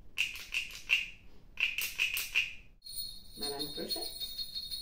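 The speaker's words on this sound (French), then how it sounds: "Madame Grenouille Percussion" A frog-shaped percussion instrument gives two bursts of quick, bright ratchety croaks in even rhythm, followed by a high sustained ringing tone as a voice speaks over it.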